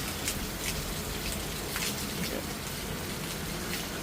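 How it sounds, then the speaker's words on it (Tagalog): Rain falls steadily outdoors on a property where a nipa hut's termite-damaged floorboards are being repaired, a dense even hiss of drops spread evenly throughout with no clear talk. "Nag-upisa na po umulan ngayon, no?"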